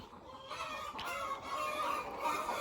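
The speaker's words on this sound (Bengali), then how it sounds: "পাঁচটার একটু পরে বাজে মুরগি এমন চিল্লা চিল্লি শুরু করছে" Hens on a layer farm cluck steadily at dawn, a busy overlapping chorus of fowl calls that stays fairly loud throughout, with no voices.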